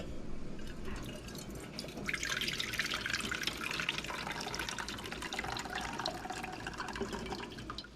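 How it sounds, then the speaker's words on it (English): Water at a rolling boil in a pot on a kitchen stove, a steady close bubbling and crackling hiss that runs the whole time with no break. "Uh-oh, our water is boiling."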